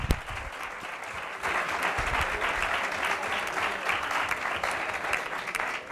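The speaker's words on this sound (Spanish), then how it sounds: "Un aplauso." Audience applause at a Spanish panel event on women and sport, steady dense clapping from many hands that swells louder after the first second and carries on through the whole stretch.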